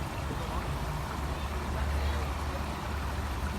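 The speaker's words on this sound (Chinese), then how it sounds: "可以听到潺潺的流水" A clear stream with a small waterfall in Trentham Gardens, a steady low burble of flowing water heard close and continuous, with a faint low hum underneath.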